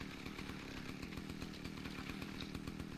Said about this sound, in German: Kettensäge, oder?